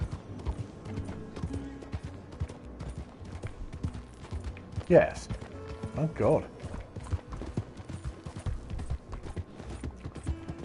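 Rhythmic hoof clip-clop of a horse in the video game Red Dead Redemption 2 runs steadily under a voice, with a couple of louder bursts midway and game background ambience.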